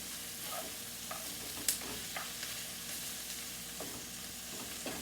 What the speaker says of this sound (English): So we're gonna let these saute for about 5 minutes.